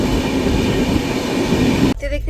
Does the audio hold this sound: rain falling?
no